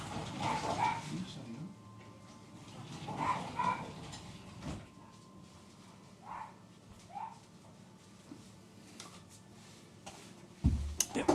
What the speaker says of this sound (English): And my dog's barking at something.